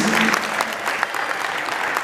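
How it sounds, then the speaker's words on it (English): Sustained audience applause at a school district breakfast event, dense steady clapping from a crowd filling the whole moment without a break. "let's give a big round of applause for Ms."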